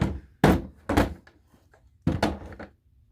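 The folding stock of an Armalite AR-180 rifle is swung closed with a few sharp, close mechanical clacks and thunks, each followed by a short rattle.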